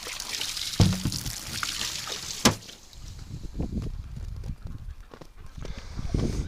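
Water poured out for wintering ducks and geese, a steady splashing trickle with a couple of sharp knocks from the container, close by and fairly loud.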